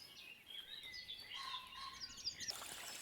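Soft, high chirping birdsong at dusk in the countryside with a few brighter tweets near the end, set against a faint steady outdoor hiss.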